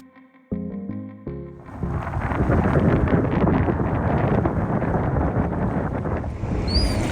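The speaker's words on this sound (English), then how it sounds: "The wind was out in full force as usual." Strong Wellington wind buffets and roars across the microphone with a steady rushing noise, following a few short tonal notes at the start.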